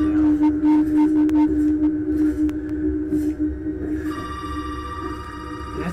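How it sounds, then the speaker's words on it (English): A telephone rings in the horror video game Resident Evil 7: Beginning Hour, with repeated bell tones over a low droning ambience and no talk. The ringing grows clearer near the end. "Can somebody get the damn phone?"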